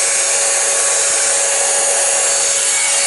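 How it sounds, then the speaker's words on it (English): A Shein Airwrap dupe hair dryer runs on its second heat setting, blowing a modest stream of air with a loud, constant whirring roar and a steady high whine, close up and with no talking. "It's not the most powerful stream of air. I maybe wouldn't use this as my main blow dryer."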